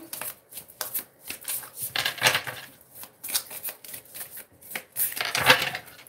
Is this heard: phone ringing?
no